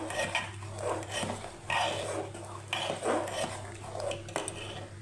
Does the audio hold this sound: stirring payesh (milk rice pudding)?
yes